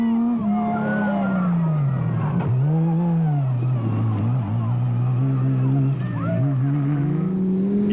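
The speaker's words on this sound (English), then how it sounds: "with Francina driving, arrive on the scene in third place in the immaculately prepared Porsche-powered V Motors Chenoweth." A Porsche-powered V Motors Chenoweth race car at the Baberspan 500 off-road race roars loud and near, its engine note rising and falling through gear changes, with speech in the background.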